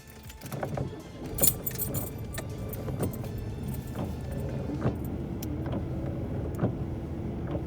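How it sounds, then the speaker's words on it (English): Keys jangle close by as a 1992 Oldsmobile 88 is shut off, with a brief clunk and soft rattling over a low vehicle hum. "the only way to do this is to actually turn the car off altogether"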